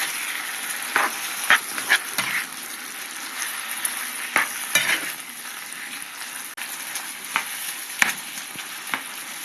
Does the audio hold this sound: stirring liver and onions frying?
yes